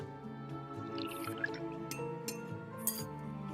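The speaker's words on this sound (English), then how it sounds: "The melting ice cubes inside the glass bounce off the interior with a crisp sound." Melting ice cubes inside a glass give soft, crisp clinks and drips at irregular intervals, faint and close, layered over a quiet sustained musical backdrop.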